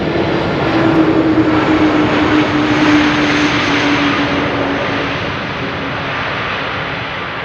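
An airliner touching down on runway 18R at Amsterdam Schiphol, a loud, steady roar of engines and rushing air with a sustained whine, slowly easing as the aircraft rolls out.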